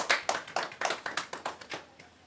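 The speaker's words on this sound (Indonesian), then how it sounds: "Kita berikan aplaus untuk Ibu Dina." A small group claps for a woman who has just read a story at a community session, a brief, quiet burst of about a dozen quick claps that fades out.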